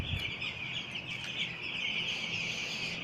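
Week-old broiler chicks in a poultry house, a dense steady chorus of high peeping chirps from many birds at once, continuous and moderately loud over a low hum.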